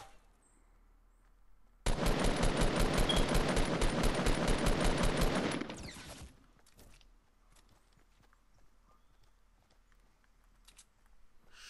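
Rapid automatic gunfire from enemy players in the video game Fortnite, a steady burst of several seconds at close range that cuts off abruptly, followed by faint clicks and footsteps.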